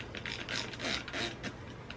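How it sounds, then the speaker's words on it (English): Plastic spray bottle nozzle twisted by hand, a few quick close clicking ratchet sounds in a quiet room. "I'm trying to make sure I got it on spray."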